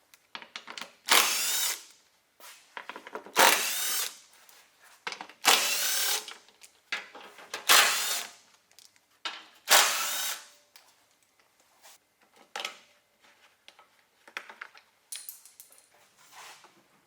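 Power tool removing bottom bolts from the front bumper of a Toyota 4Runner; a series of short, close, loud whirring bursts spaced a couple of seconds apart, followed by fainter clicks and handling noises.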